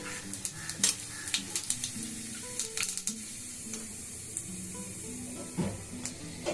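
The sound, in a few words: bay leaves and cumin sizzling in hot oil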